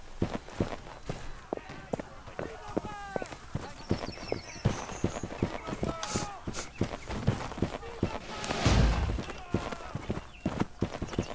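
Horses galloping in the Holdfast video game, a dense irregular clatter of many hooves at close range running continuously, with game tones, clanks and people talking mixed in.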